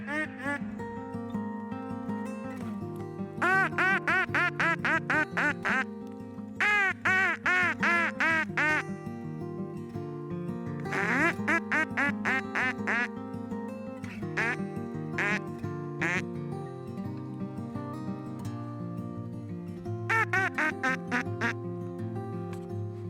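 A person imitates ducks quacking by calling through a fist, loud and close, in repeated rapid bursts of nasal quacks separated by short pauses.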